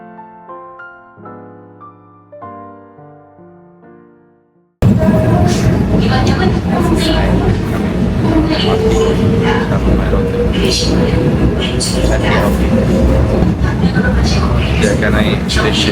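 After a short bit of plucked music, a Seoul subway train ride takes over: a loud, steady rumble and rattle inside the carriage, with voices murmuring in the background.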